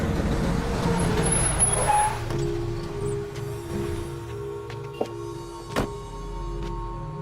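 A vehicle slows and pulls over to the roadside, its heavy engine rumble fading as brakes hiss and squeal briefly, with a couple of sharp clicks near the end and no speech.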